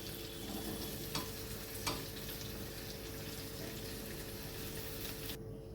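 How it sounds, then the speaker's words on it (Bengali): Okra (bhindi) frying in oil in a pan on a gas stove, a steady close sizzle with a couple of light stirring scrapes, cutting off sharply near the end. "ভেন্ডিটা পুরো ভাজা হয়ে গেছে, ভেন্ডির থেকে তেলও ছেড়ে গেছে, দেখুন।"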